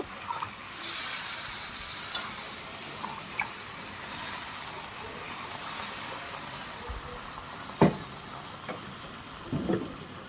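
Mustard and green chilli paste with a splash of water hissing in a hot pan for a prawn curry, a steady soft sizzle with a few sharp clinks of a utensil near the end.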